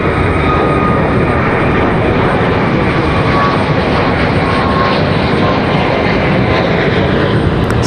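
A Southwest airliner departs Raleigh-Durham airport, its jet engines a loud, dense, unbroken roar from start to finish with no talk over it.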